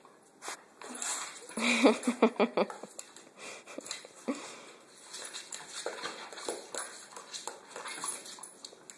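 A dog whimpers and whines in short, high-pitched bursts, close by, with a person speaking softly over parts of it.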